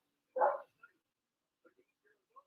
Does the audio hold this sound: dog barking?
yes